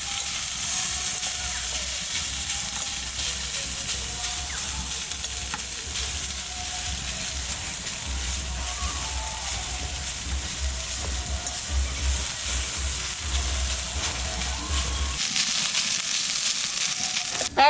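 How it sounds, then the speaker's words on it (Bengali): Onions fry in a pan for a Bengali bharta, giving a steady, close sizzling hiss with a low rumbling undertone that drops away near the end, leaving thinner crackle alone. "ভর্তার জন্য পেঁয়াজটা আগে ভেজে নেব।"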